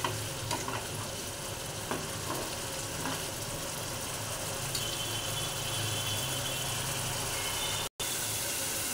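Masala for paneer pakoda frying and being stirred in a pan, a steady close sizzle with occasional scraping clinks, continuous throughout with one brief dropout near the end.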